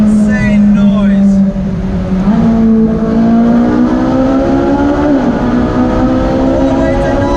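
A Ferrari engine revs hard while driving, climbing toward 9,000 rpm. The loud, continuous howl rises and falls in pitch through several gear pulls, close and dominant throughout.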